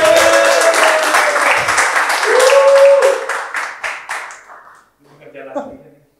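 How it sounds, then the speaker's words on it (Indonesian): Studio audience applauds as political stand-up comedian Hendri Satrio is called to the stage on Indonesian TV, loud sustained clapping with music swelling underneath, fading out before a voice begins talking alone. "Tepuk tangan."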